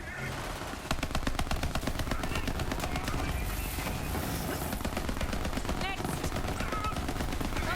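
Weapon gunfire in Borderlands 3 rattles off in a dense, continuous automatic stream after a brief lead-in, loud and close, mixed with game effects and background music.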